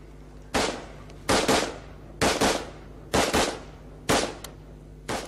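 Cleaned-up, formerly rusty assault rifle firing in a police weapons setting: six sharp bursts of rapid shots spaced about a second apart, each a loud crackling blast with a short decaying tail, no talk.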